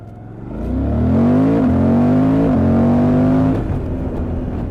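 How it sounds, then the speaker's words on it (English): A Suzuki V-Strom 800DE motorcycle with a two-cylinder inline engine, its exhaust rising in pitch as it revs, then holding a steady, fairly subdued drone before easing off, heard alone without talk. "Now, Suzuki here is very quiet and it doesn't sound like having especially big balls."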